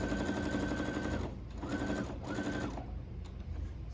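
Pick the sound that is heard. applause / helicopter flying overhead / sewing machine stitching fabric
sewing machine stitching fabric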